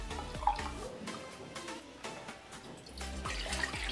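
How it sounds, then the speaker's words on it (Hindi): Three cups of cold water are poured into a cooking pot for Kashmiri pink tea, a soft close splashing stream with small gurgles and drips. "और इसमें 3 कप ठंडा पानी डालूँगी।"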